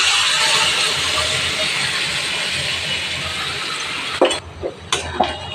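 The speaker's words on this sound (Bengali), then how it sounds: "এবার গরম জলটা ফেলে দিচ্ছি" Hot water poured off from a pot of meat curry in a home kitchen, a steady broad hissing rush that runs for about four seconds before ending in a few brief clanks and splashes.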